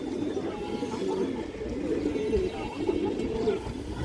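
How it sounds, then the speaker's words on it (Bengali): Pigeons coo steadily at a pigeon farm, a close, continuous chorus of low throaty burbling calls from several birds layered over one another. "খুব সুন্দর কবুতর মাশাআল্লাহ"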